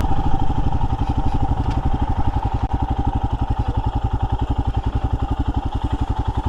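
A 2022 Royal Enfield Himalayan motorcycle rolls slowly through Snow Canyon State Park, its single-cylinder engine thumping in a steady, close, loud low pulse with a faint mechanical clatter on top.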